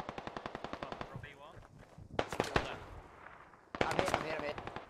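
Rapid bursts of automatic gunfire and single heavy shots in the Squad combat shooter, loud and close, with sharp cracks and dense rattling volleys throughout.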